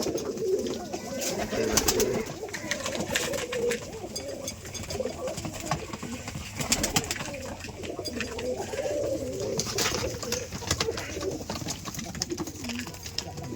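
Several Rajshahi Giribaz pigeons coo steadily up close, their throaty rolling calls overlapping throughout amid light rustling and clicks.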